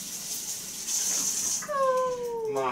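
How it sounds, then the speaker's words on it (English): Tap water runs steadily into a kitchen sink for hand washing, a soft continuous hiss, with brief higher squeaky or whining tones near the end. "Wash your hands."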